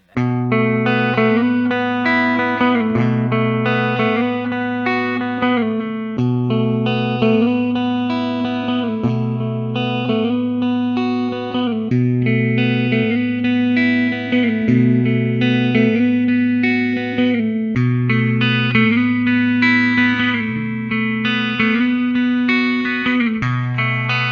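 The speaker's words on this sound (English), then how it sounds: "Now let's play around with our baritone." A distorted electric baritone guitar, an Epiphone Shinichi Ubukata ES-355, plays a steady, repeating low riff with chorus-like shimmer, continuous and loud throughout with no talking.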